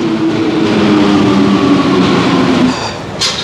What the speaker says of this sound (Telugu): వచ్చేస్తుంది మన మెట్రో ట్రైన్.